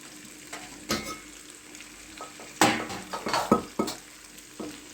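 Pasta being stirred in a pan over the heat during home village-style cooking, giving a steady sizzle broken by several scraping strokes and clinks of the utensil against the pan, close and moderately loud, with no talk.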